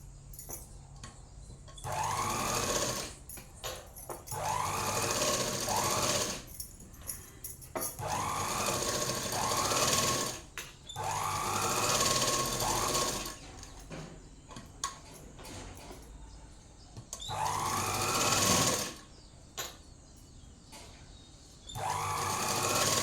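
A sewing machine stitches a chudidhar top and its lining together in several quiet runs of rapid, steady whirring, separated by short pauses.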